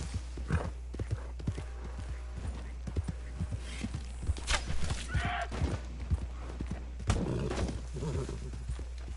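Horse hooves clip-clopping in a steady walking rhythm in Red Dead Redemption 2, close and continuous, with an occasional whinny and no talk over them.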